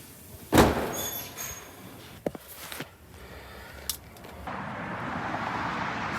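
A gate at a Dallas paint shop is pulled shut, giving one loud clanging bang, then a few lighter knocks and rattles over steady outdoor background noise.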